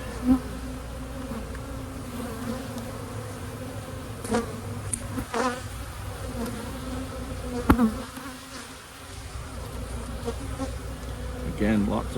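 A steady, continuous hum of many honey bees buzzing close by around open hive frames, with occasional sharper passes and faint handling noises, no talking.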